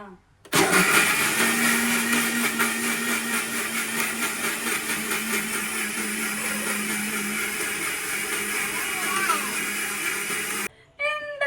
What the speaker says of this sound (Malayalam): എന്നിട്ട് ഇത് അടിച്ചെടുക്കും.